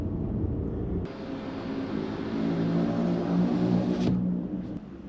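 Jaguar XF X260 saloon cruising through Gloucester city centre, a quiet, muffled cabin hum of engine and tyres that swells gently and then drops away, with no talking.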